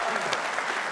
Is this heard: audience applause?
yes